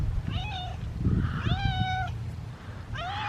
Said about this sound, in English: we met the most adorable cat who we just could not get enough of